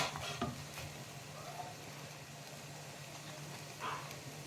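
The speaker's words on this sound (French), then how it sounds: "je n'arrête pas de remuer jusqu'à que tout soit grillé" Food stirred continuously in a hot pan until grilled, a soft steady sizzle with occasional faint spoon scrapes against the metal.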